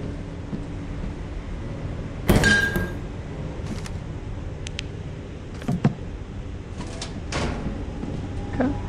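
A door opens or closes in the video game Lethal Company, a brief sliding thud standing out over a steady droning game ambience, with a few fainter clicks afterward.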